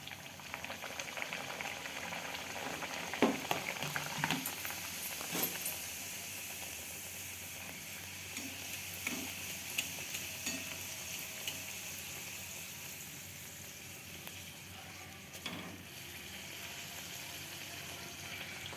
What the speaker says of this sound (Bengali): এরপর আমি কচুরিগুলো ভেজে নেব।